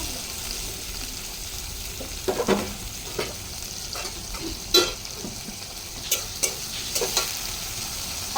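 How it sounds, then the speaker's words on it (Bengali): Beans frying in a pan for fried rice, a low constant sizzle with scattered clinks and scrapes as a utensil stirs them. "আমি প্রথমে আগে বিনসটাকে ভেজে নিচ্ছি।"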